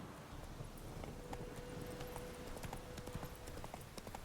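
Roach the horse's hooves in The Witcher 3 give a steady clip-clop on the ground, close and fairly loud over a dense game ambience, running without a break for the whole stretch.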